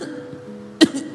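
A person imitates a driver's coughing with a single short, sharp cough burst after a stretch of low background hum, with no talk in the moment.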